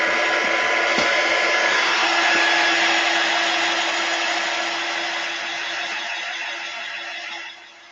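A hair dryer runs steadily as it dries paint on a color-block painted clipboard, a close, even whir that holds for several seconds and then tapers off and drops away at the end.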